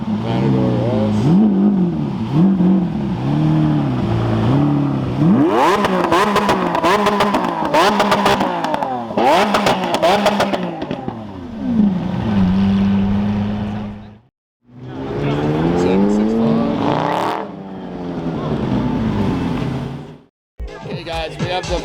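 A Lamborghini Aventador S at a McLaren gathering, its engine roaring loud and close with repeated rising and falling revs and sharp blips, broken by brief pauses, while people talk nearby.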